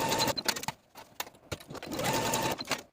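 A home sewing machine stitches the side seams of a 1960s vintage Simplicity 9594 dress in short close whirring bursts, with pauses and clicks between runs.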